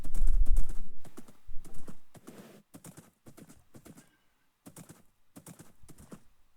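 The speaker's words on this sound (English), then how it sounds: "I think bringing the horse was the right call" A horse walks along a trail toward the desert, its hooves clip-clopping in a steady rhythm, loud and close at first, then fainter and sparser as it moves on.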